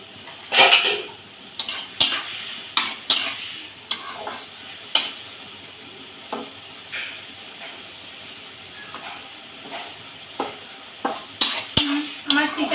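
A lid is lifted off a pot of simmering eggplant with hilsa bones in mustard paste. Repeated sharp metallic clanks and scrapes sound over a soft steady sizzle and hiss.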